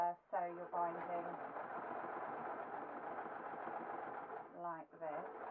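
Sewing machine stitching binding onto patterned stretch jersey cotton for a simple dress, a steady continuous motor whir running for several seconds with brief stops and restarts at the start and end.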